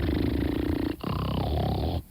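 A voice imitates heavy snoring, two rough growling inhales and snorts close up, one after another with a short break between them.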